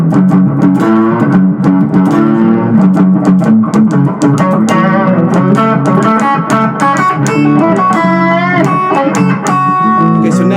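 A distorted electric guitar plays a fast, busy solo of quick picked notes and bends over a steady backing, loud and continuous.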